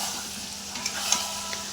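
Tomato, onion, green chilli and capsicum fry in a pan with a continuous sizzle, broken by a few light scrapes and taps of a spoon against the pan over nearly two seconds, close up, with no voices.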